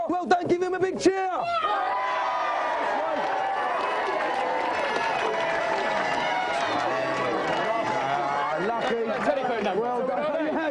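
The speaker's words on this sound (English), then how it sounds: "give him a big cheer." A TV game-show studio crowd cheers and whoops in a steady, loud roar that carries on for several seconds, with voices mixed through it.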